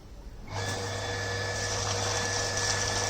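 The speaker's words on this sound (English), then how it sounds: "Let's turn on the pump." A domestic water pump switches on with a sudden start and then runs as a steady electric whine and hum, close and continuous, with no talk over it.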